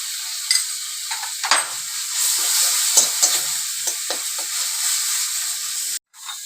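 Ginger garlic paste frying in a hot pan, a bright steady sizzle with scattered stirring scrapes and crackles, close and loud with no talk, cutting off briefly near the end.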